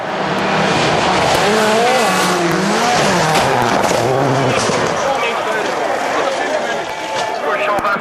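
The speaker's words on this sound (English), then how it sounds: "Here comes their rising star Jussi Välimäki driving the third Hyundai" A Hyundai rally car races past on a gravel stage at Rally Finland 2003, its engine roaring loud and close with rising and falling revs, while a commentator speaks over it.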